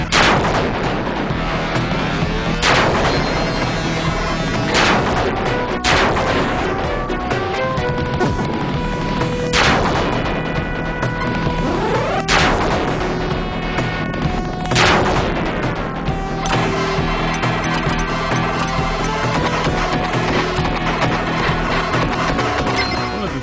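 Rapid green laser shots and booming explosions from the Sega Genesis shooter MUSHA fire continuously over driving game music, with sharp blasts punctuating the loud, dense soundtrack.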